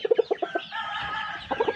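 A fighting rooster clucks in a quick series of short, close calls, a brief higher squawk in the middle, then another burst of clucks.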